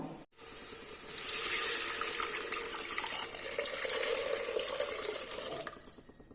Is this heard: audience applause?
no